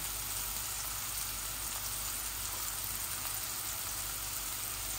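Steady rain falling outside, a continuous broadband hiss without breaks, moderately loud and even throughout.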